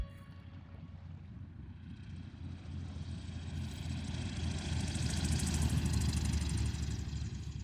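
Small private airplane coming in to land, its engine and propeller drone steady and fairly close, slowly growing louder, with wind and rumble throughout and no talk.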